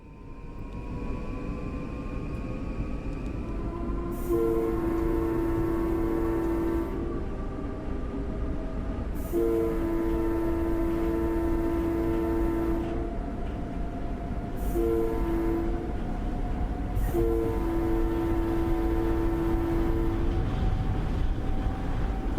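A Long Island Rail Road train horn blows four times for a crossing over steady rumbling rail noise: two long blasts, a short one, then a final long one.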